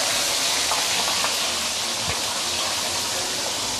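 Fish lowered into hot deep-frying oil in a wok, giving a loud, steady broadband sizzle and hiss that stays constant throughout with no pauses.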